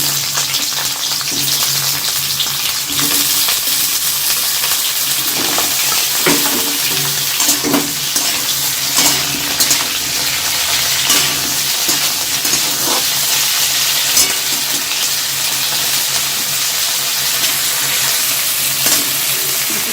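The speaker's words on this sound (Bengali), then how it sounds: "আমি এই তেলে আর একটু তেল দিয়ে দেবো একেবারে সবজিগুলো ভাজার জন্য দিয়ে এইবারে দিয়ে আমি ভাপানো ফুলকপিটা আগে দিয়ে দেবো দিয়ে ভেজে নেবো" Steamed cauliflower and mixed vegetables frying in extra oil, a loud, continuous close sizzle with intermittent stirring clatter throughout.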